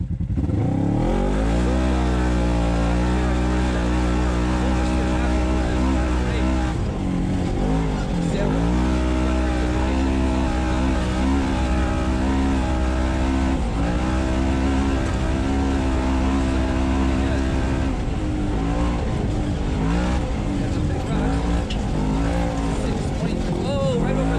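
A Polaris RZR RS1 side-by-side with its front sway bar removed roars through a rally-style test run, its engine droning loud and close throughout as the revs rise and dip.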